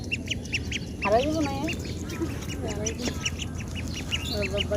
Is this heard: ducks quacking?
yes